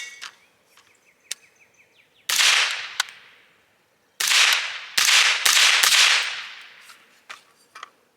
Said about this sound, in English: Now let's try it with the suppressor on.